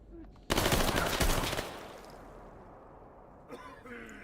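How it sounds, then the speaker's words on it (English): A sudden loud burst of rapid automatic gunfire in the shooter STALKER: Gamma, about a second long, then a decaying echo before a brief quieter noise at the end. "Who's shooting me?"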